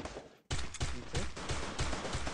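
Dense, continuous gunfire in the Free Fire mobile game, a loud rapid burst that starts abruptly after a brief pause and keeps going without letup.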